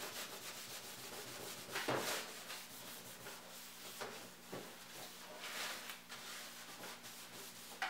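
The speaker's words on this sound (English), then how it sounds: "Rub it in there good with that alcohol." Cloth rubbing alcohol into a microwave surface during cleaning before spray painting, a soft scrubbing swish with a few stronger strokes, close but faint, no talking.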